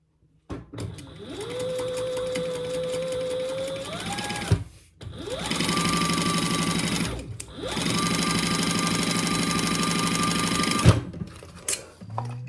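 A sewing machine stitches a seam in cork fabric for a clutch, running in two long steady whirring bursts separated by brief pauses, close and loud.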